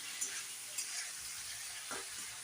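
Fried potato and cauliflower sizzle softly in spices while a spoon stirs them, with a few light scrapes and taps against the pan over a low, steady frying hiss.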